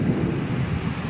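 Faint thunder rolls and echoes in the distance as a small storm approaches, a low sustained rumble with rain and wind noise beneath, no talking.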